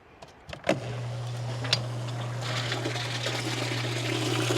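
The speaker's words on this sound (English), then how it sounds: "We're gonna plug in the pump." Cold plunge ice barrel chiller pump switching on after a few clicks and a thump, then a steady low motor hum with water trickling and flowing, close and continuous.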